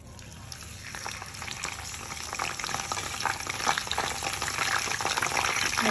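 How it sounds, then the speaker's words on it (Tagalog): Quail pieces deep-fry in a generous pool of hot oil, giving a steady, dense crackling sizzle that grows slightly louder and busier over the few seconds, close up with no talking. "I-deep fry lang po natin siya on both sides."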